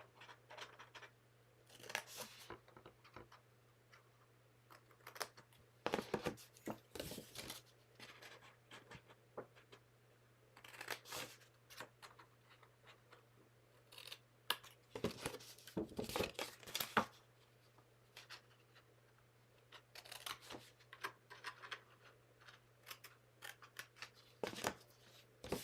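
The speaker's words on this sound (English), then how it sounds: "And so we can cut these little triangles out." Scissors snip through paper, cutting small triangles out of a custom-sized card envelope; short bursts of crisp cuts and crinkling come in clusters with quiet gaps between, close and fairly soft.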